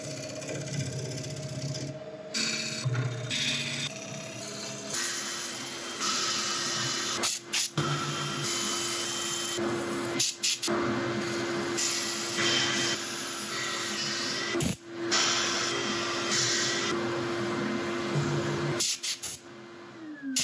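An African mahogany bowl is sanded on a lathe, giving a steady motor whine with a continuous abrasive hiss that runs throughout, broken by a few brief pauses and shifts in pressure.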